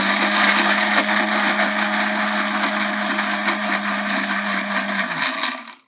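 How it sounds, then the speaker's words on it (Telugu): A mixer grinder whirs loudly and steadily as it blends almonds, pumpkin, banana and a little water, then winds down to silence at the end. "ఆల్మండ్స్, పంకిన్, బనానా, కొద్ది వాటర్ వేసుకొని మనం మిక్సీ పట్టేసుకోవాలండి"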